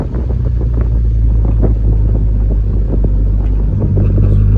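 Constant loud, deep engine rumble from a Toyota MR2 Roadster with a turbocharged VR6 swap, heard from inside while driving, with wind buffeting across the microphone and no talking.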